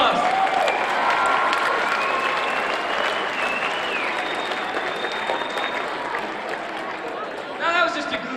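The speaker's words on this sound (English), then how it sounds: "Give them another round of applause." An audience claps in sustained, lively applause that holds steady for the full stretch, with a faint background tone running beneath it.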